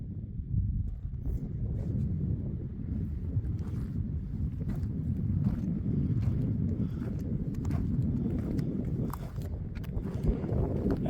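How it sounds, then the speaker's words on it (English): Steady wind gusting outdoors across open farm fields planted with wheat, barley and yellow field peas, a constant low rumble buffeting the microphone throughout with no voices. "Well, the wind hasn't let up."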